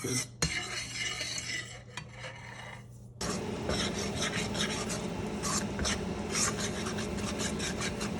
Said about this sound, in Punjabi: ਆਪਾਂ ਇਹ ਇਹਨੂੰ ਮੈਦੇ ਨੂੰ ਭੁੰਨ ਲਾਂਗੇ